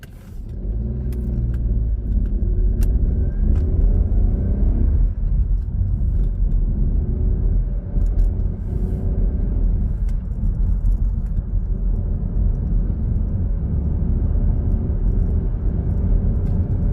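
A car cruises in fifth gear along a dual carriageway, a loud continuous engine drone and road rumble filling the cabin, steady throughout with a slight rise early on.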